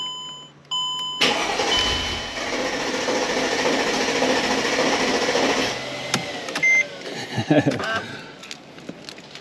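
Mercedes E55 W211 engine cranking steadily for several seconds and nearly catching, loud and close, then cutting off into clicks and rattles.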